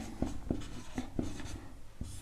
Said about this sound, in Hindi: हम लोग लिखेंगे